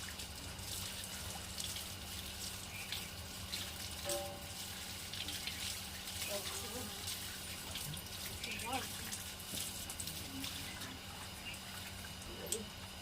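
A tap or shower runs in a faint, steady wash of water while an old dog named Bholu is bathed, with voices speaking softly in the background.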